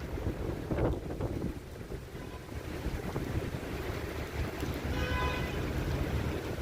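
Rain and floodwater sweep across the Las Vegas F1 circuit, a constant broad wash of water mixed with wind buffeting on the microphone and a rougher gust near the start.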